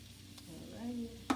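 Shrimp sizzling in a pan, with a brief close hiss and a stir over steady frying, ending in a sharp clink.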